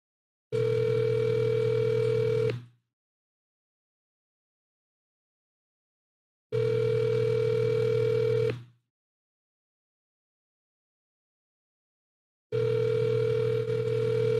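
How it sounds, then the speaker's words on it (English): Telephone ringback tone on an outgoing call: a steady buzzing tone in three bursts of about two seconds each, separated by roughly four seconds of silence, clear and alone with no talk. "I'm gonna call him on my phone."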